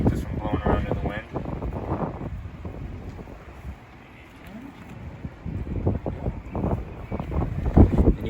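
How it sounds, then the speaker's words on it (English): Gusty wind buffets the microphone outdoors beside an RV, a rough low rumble that swells and fades, easing in the middle before rising again, with a person talking intermittently over it. "There's the wind. That's the wind."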